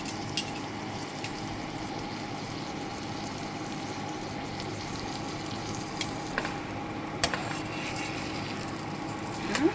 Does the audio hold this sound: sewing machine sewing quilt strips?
no